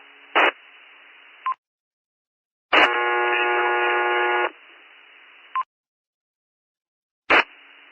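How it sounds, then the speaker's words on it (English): A harsh, steady fire-alarm-like buzz comes through a ham radio repeater, lasting a couple of seconds between short squelch bursts and clicks of the transmission opening and closing, with silence in between. "Hey, that sounds like a fire alarm."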